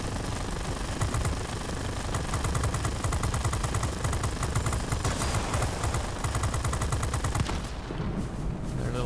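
Aircraft machine guns fire in the World of Warplanes video game, rapid continuous bursts rattling loud and close over a droning engine, then the firing cuts off near the end.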